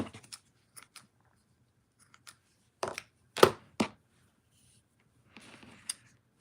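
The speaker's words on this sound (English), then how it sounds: "Ribbon scissors." Ribbon scissors snipping during a craft session, a handful of sharp, quiet cuts spread out with short silences, a tight cluster of louder snips in the middle.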